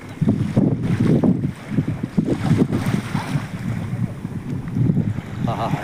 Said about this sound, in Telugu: ఈ బోటు మీద వెళ్ళిపోతున్నాము